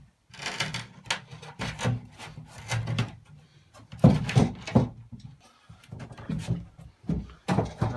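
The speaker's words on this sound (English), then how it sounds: "the floorboard can go back in now" A wooden floorboard is shuffled and knocked back into place over pipework from a boiler, giving a series of close scraping, rubbing and thudding wood sounds in irregular bursts, without speech.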